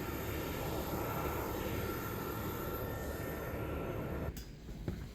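A British Airways airliner at Stockholm Arlanda Airport gives off a steady, even engine roar that holds for several seconds before easing off, with a short click near the end.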